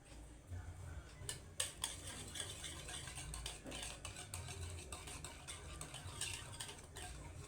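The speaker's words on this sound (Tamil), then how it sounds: "இப்போ இந்த மாவை வந்து நம்ம கொஞ்சம் கொஞ்சமாக போட்டு அடிச்சுக்கலாம்." Health-mix flour cake batter being beaten, flour added bit by bit into sugar, oil and milk: a steady run of quick scraping, tapping strokes against the bowl, close and fairly loud, with no talking.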